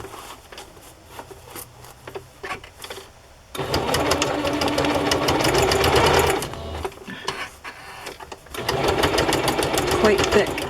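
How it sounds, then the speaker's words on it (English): A sewing machine stitches a fabric journal cover in loud, fast, steady rhythmic runs close by, pausing between passes, with a voice talking near the start. "that's the only piece left to sew"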